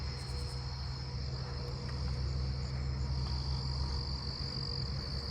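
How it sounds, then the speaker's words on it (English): Southeastern field cricket chirping at night in a neighbourhood, a steady high trill that holds without a break, with other insects and a low frog-like drone underneath, no voices. "I hear southeastern field cricket."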